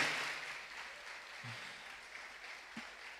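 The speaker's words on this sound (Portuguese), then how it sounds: "Vamos aplaudir, amém?" Church congregation applauding during a sermon, a steady wash of clapping that fades slightly, with a couple of brief low thumps and no talk over it.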